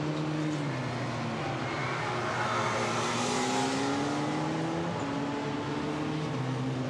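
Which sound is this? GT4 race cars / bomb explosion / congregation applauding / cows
GT4 race cars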